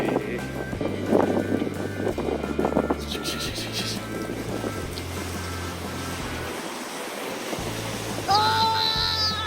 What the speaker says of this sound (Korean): 와, 이거 아까보다 물살이 더 센 곳이에요